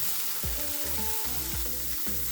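Thin slices of beef sizzle and fry in a hot pan, a steady crackle with occasional scraping stirs.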